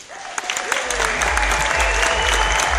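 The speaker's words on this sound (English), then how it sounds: "please give them a round of applause" Audience applause at a leadership event, steady clapping from a crowd that swells in and holds loud, with a voice briefly speaking over it at the start.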